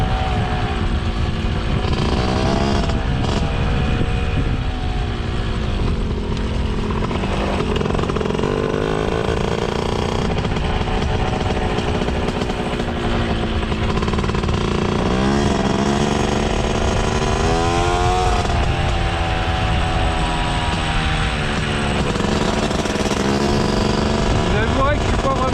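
Mobylette moped engine on a rough off-road mountain track, a steady buzzing two-stroke drone that rises and falls with the throttle for the whole stretch, loud and close, with a rider talking over it.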